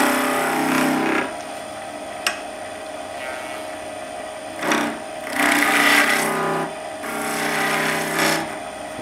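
A skew chisel forms a bead on wood spinning on a lathe, a steady hum with cutting rasps swelling in several bursts and one sharp tick, close up.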